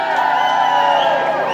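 A street crowd at a wage parity march cheers and whoops loudly and close, a steady roar with no pause.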